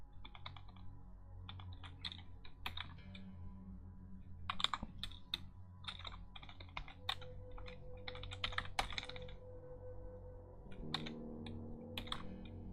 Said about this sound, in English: I am well aware of how loud and annoying my keyboard clicks can be.